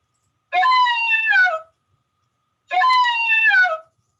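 Played-back howls of Connecticut coyotes: two separate, clear howls of about a second each, each starting high and dropping in pitch, with silence between them.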